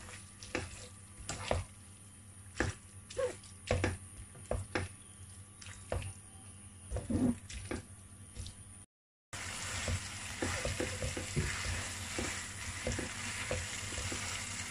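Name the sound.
stirring cooked spaghetti in a pan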